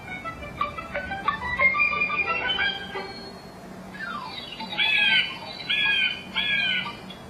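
Bird calls for a children's fable about an eagle and a crow: a run of sharp squawks, then a few loud, clear cries close by, alone with no talk.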